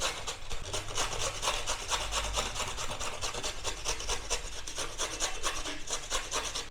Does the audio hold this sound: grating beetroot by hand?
yes